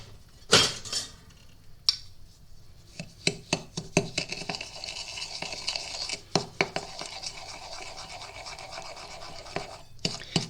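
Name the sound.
stirring sugar with a spatula in a bowl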